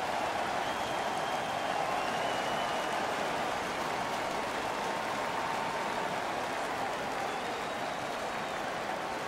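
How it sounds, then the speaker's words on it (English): Home crowd in an NHL 19 international hockey match, Slovakia versus France, roaring in a steady, broad wash of cheering and applause that stays loud and continuous throughout, with no distinct voices standing out. "The home crowd is pretty excited about that."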